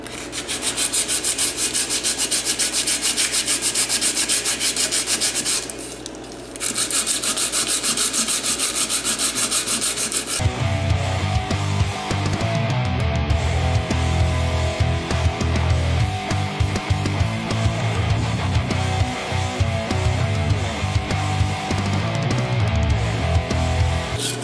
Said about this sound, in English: I was sanding the Bondo and the aluminum was going away, the Bondo was not going away